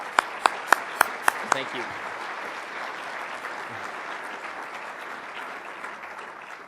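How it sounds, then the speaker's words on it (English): A conference audience in Vancouver breaks into applause after a few loud, spaced claps, then a steady wash of clapping continues throughout, with a brief spoken thanks near the start. "give him a round of applause"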